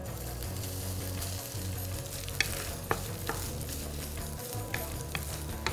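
Grated coconut toasting in a hot pan as it is stirred, a steady dry sizzle with soft scraping and a few sharp clicks of the spoon, close and without speech.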